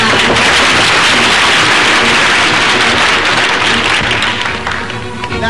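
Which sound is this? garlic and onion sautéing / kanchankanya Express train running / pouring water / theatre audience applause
theatre audience applause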